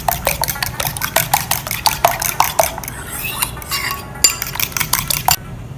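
Eggs being whisked in a bowl with salt, pepper and garlic powder, a fork or whisk clinking rapidly and steadily against the bowl with no talking, the taps close and fairly loud.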